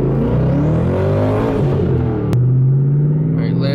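Turbocharged car accelerating in first gear: a loud, close engine note climbing in pitch, then a sharp shift point and a steadier drone as the revs settle.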